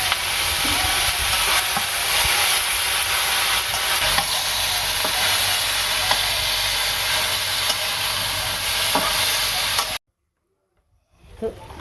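Taro stolons (kochur loti) sizzle and fry steadily in a pan with green chilies, a loud continuous hiss for about ten seconds that then cuts to near silence.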